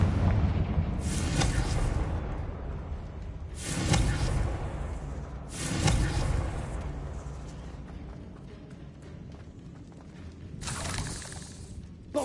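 Repeated Confringo spell blasts in the Hogwarts Legacy video game, several loud booming bursts with crackling, shattering tails at irregular intervals over a continuous rumbling bed of game sound.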